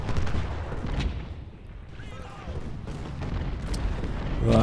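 Artillery and musket volleys rumble through a Civil War battle at Antietam in Ultimate General: Civil War, heavy low booms and crackling gunfire rolling continuously, with a voice talking over the din.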